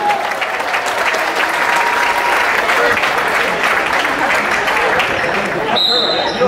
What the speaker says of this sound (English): Let's give a round of applause for the class of